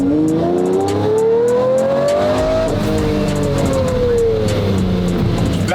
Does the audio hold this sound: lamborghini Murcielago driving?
yes